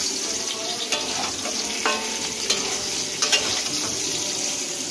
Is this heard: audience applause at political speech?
no